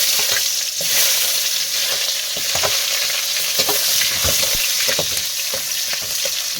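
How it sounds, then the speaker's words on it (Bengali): Onion going into spiced oil in a pan, sizzling and frying steadily and close, with occasional stirring scrapes and no talk, as an evening meal is cooked by a winter river. "এবারে মশলা করব তখন পেঁয়াজটা দিয়ে দেবো"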